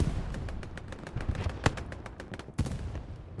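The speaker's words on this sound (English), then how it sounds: "We do have a strafing run on its way." Aircraft strafing-run gunfire in the game Hell Let Loose, on the Carentan town center map, cracks out as rapid, irregular bursts of shots over a rumbling background, with louder impacts standing out partway through.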